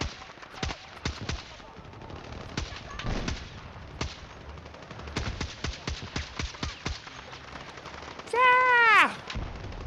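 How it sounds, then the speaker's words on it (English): Gunfire in Battlefield 6 multiplayer: rapid clusters of sharp automatic shots in uneven bursts at moderate loudness, with a rising whistling tone near the end. "I'm shooting the shit out of this corner"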